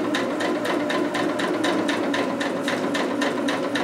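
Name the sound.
sewing machine stitching over fabric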